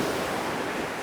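Ocean surf washing onto a shoreline, heard as a steady broadband rush with no breaks over its brief length, with no voices present.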